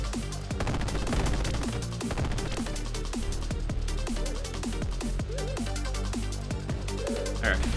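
Rapid bursts of rocket fire and explosions in the twin-stick shooter Cecconoid, dense overlapping blasts and crashes throughout, loud and close under game music.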